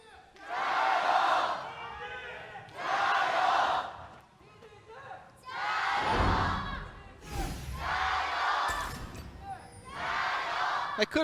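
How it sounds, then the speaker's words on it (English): A large esports arena crowd at a League of Legends LPL match between RNG and EDG chants in rhythmic swells, with five or six loud surging shouts separated by brief lulls, rising to roaring whoops. "You can hear the crowd still trying to chant."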